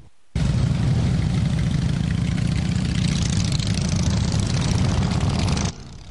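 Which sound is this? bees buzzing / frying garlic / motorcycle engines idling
motorcycle engines idling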